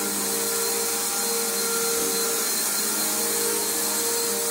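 A Bissell Powerforce bagged upright vacuum cleaner runs steadily close by, a continuous loud motor whine with broadband airy roar and no pauses.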